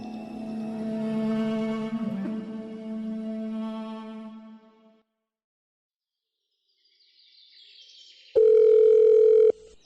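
A telephone tone rings steadily for several seconds, falls silent, then a loud sustained electronic beep sounds near the end.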